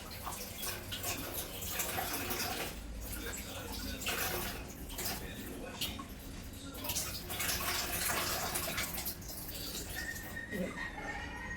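Indoor potted plants are washed directly under running water, a continuous splashing wash that swells and dips close by while someone talks over it.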